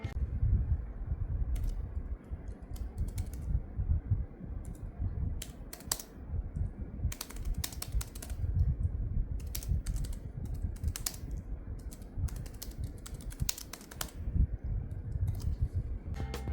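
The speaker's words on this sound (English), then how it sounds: "typing on this keyboard is not good. Keys feel flatter than my singing, it's a lot like typing on cardboard" Fast, continuous typing on a Samsung Galaxy Tab S10 FE keyboard case, with soft, flat, muffled key taps in irregular bursts, close by and fairly quiet, no talking.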